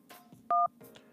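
Telephone keypad tone sounding as a call is sent to voicemail: one short, loud steady two-pitch beep lasting about a fifth of a second, between brief faint voice fragments before and after.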